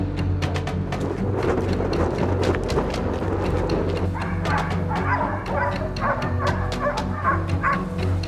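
Pack of hunting dogs barking at a wild boar in an open field, rapid overlapping barks and yips close by over a constant low rumble, with whimpering mixed in.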